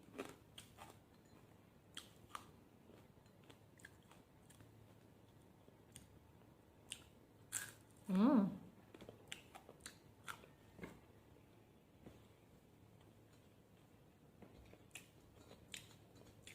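Crispy dried anchovies and squid are crunched and chewed close to the mic in a quiet room, with sparse sharp crackles and bites scattered over several seconds and one louder burst of chewing near the middle.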